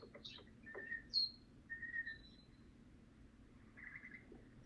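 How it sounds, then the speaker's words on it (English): Birds chirp outdoors in short, bright calls and brief trills, faint and somewhat distant, with a few pauses between them and no voices. "I can hear the birds chirping."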